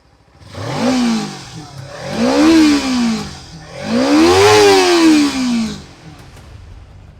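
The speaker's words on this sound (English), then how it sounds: "Especially the sound of the parallel twin is such a sweet sound to hear." Kawasaki Ninja 300 parallel-twin motorcycle engine revving in three rising and falling bursts, each climbing higher and louder before easing back to a steady idle, close and alone with no voices.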